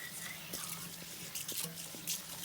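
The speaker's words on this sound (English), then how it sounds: "And then you have to pour cold water around it and on it." Cold water pouring from a tap into a sink around and over a hot omelet pan, a steady soft splashing stream with faint drips, fairly quiet and close with no talking.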